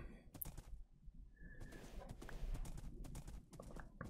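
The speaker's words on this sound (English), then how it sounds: "Tons of horses." Horses in the Minecraft video game clip-clop in quick, irregular hoof steps, fairly close, with a faint snort or whinny and scattered game sounds around them.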